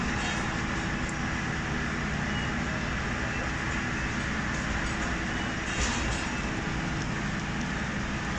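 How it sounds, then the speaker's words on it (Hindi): Fareed Express train pulling out of Kasur Junction railway station in rain, with a steady, loud rumble of rolling carriages and wheel noise filling the whole stretch without a break. "इसके साथ ही ट्रेन रवाना होना शुरू हो गई है कसूर जंक्शन रेलवे स्टेशन से"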